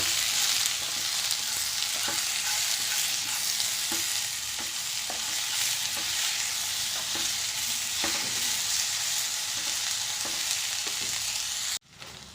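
Chopped tomatoes frying and sizzling in a pan for tomato chutney while a spoon stirs them, with soft scraping strokes recurring every second or so over a constant hiss, then a brief abrupt break near the end.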